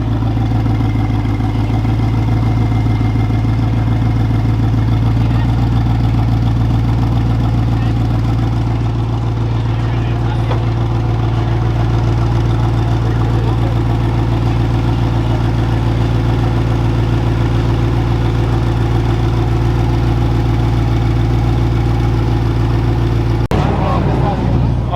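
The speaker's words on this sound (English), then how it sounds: "now we get to listen to the sound from the Akrapovic exhaust" A Koenigsegg Regera with an Akrapovic exhaust idles steadily and loudly up close for the whole stretch, a deep low rumble holding even throughout, with some talk faintly underneath.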